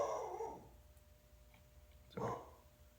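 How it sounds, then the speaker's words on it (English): A dog barks twice, faint and somewhat distant: a short burst at the start and another about two seconds later, with quiet room tone between. "So that's my dog being a shithead."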